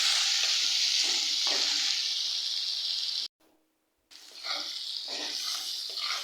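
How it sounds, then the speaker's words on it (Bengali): Onions fry with salt in a pan, making a bright, steady sizzle up close that cuts out briefly to near silence and then resumes, with occasional stirring scrapes. "এই যে পেঁয়াজ ভাজা হয়ে গেছে"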